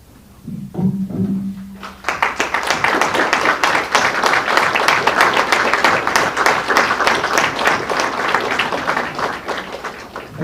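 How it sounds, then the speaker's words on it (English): An audience at a community evening event breaks into strong applause, dense and sustained clapping from many hands that builds quickly after a brief murmur and holds loud for about eight seconds. "join me in giving our community a strong round of applause"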